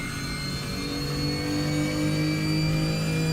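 A BMW E46 in a driving simulator game, modded with an airplane sound, produces a continuous jet-engine whine with steady tonal hum and a low rumble, rising slightly, with no voices.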